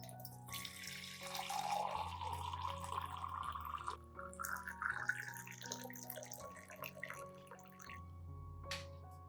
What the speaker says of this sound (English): Prepare a clean glass, then pour about 500 milliliters of hot water into it.